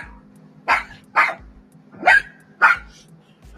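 A dog barks five times in a steady, evenly spaced series, loud and close, with a faint low hum running underneath and no talk over the barks.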